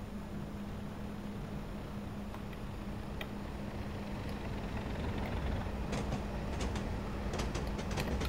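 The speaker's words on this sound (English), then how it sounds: "this train here is going to proceed forward and go down the main line" In a railway simulator video game, a train moves forward along the main line with a continuous rumbling drone and occasional faint clicks over it, heard alone without speech.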